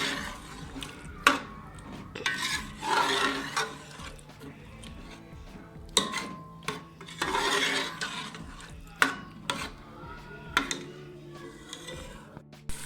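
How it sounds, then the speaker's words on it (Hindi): A spoon stirs spice masala with onion and garlic in a cooking pot: soft scraping and light metallic clinks repeat irregularly at close range over a low steady background hum. "बहुत अच्छे से इसकी हम बुनाई करेंगे, मसलसल चमचा हिलाते जाएंगे।"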